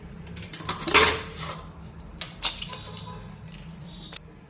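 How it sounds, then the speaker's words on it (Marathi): A cooled pressure cooker holding cooked spinach and dal has its lid come off with a sharp metallic clank, followed by a few lighter clinks and scrapes of metal. "कुकर पूर्णपणे थंड झालेला आहे आता याचं झाकण काढूया"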